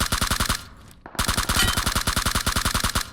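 Rapid, rhythmic bursts of automatic gunfire from a shooter video game, loud and close, with a brief pause near the middle before the firing resumes.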